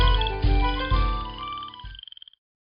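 Cartoonish frogs croaking in a radio advertisement for a computer repair shop, a loud burst of layered croaks and tones ending in a quick run of short rhythmic croaks before cutting to silence.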